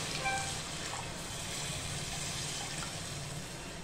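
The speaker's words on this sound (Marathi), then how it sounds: "आता ह्याच्यामध्ये मी पाणी ओतणार आहे" Water pours steadily into a pan of wheat lapsi, a continuous broadband splashing rush lasting the whole stretch at an even, moderate level with no talking.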